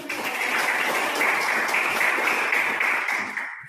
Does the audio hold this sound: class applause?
yes